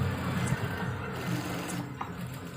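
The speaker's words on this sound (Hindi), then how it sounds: "इस तरीके से दोस्तों हमें एक किनार की सिलाई लगा लेनी है।" A sewing machine runs a continuous line of stitching along the edge of a pant belt, a steady close-up whirring hum with a light mechanical rattle and no pauses.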